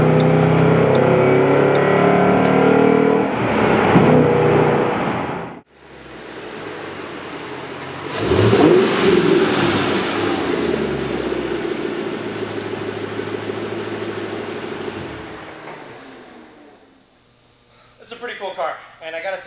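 A Ford Mustang GT V8 revs with a rising, roaring engine note mixed in with someone talking, then the sound fades toward the end.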